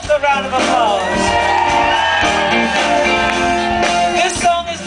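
Concert crowd at Oyster Fest shouting and whooping loudly in a sustained roar, with cheering voices layered densely throughout.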